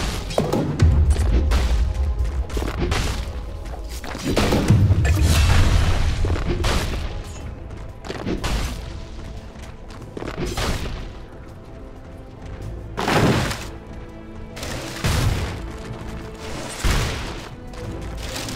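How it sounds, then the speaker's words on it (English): Video game Dota 2 battle sounds around a tower under attack: repeated booms, crashes and impact hits in irregular bursts, some loud and close, others fainter, with no speech. "Dire's top tower is under attack."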